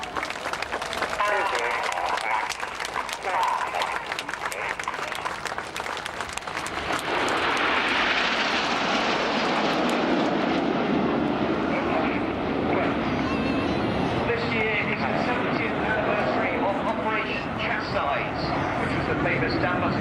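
Red Arrows jet aircraft fly in formation, their roar swelling from a distant rush into a loud, broad, sustained rumble that fills the second half.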